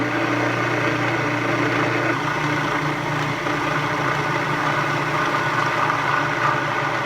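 A bread machine kneads gluten-free bread dough with a steady, loud motor hum and a low churning drone that never lets up.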